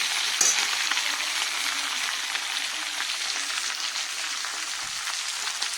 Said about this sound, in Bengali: এবার এর মধ্যে আমি একটু শুকনো লঙ্কা আর একটা গ্যাসে একটু 5 ফোড়ন দিলাম।